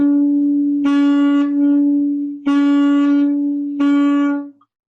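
A saxophone holds one sustained note with muffled tonguing, three soft-edged articulated swells breaking a continuous buzzing tone before it cuts off; close and fairly loud, no talking.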